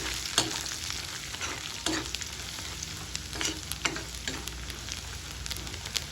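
Chow mein ingredients being stir-fried in a hot pan with turmeric, salt, chili and spices: a steady sizzle under repeated scraping stir strokes at an irregular rhythm, close and fairly loud, no talking.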